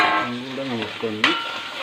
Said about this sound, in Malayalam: സവാള ഒന്ന് വാട്ടിയെടുക്കാം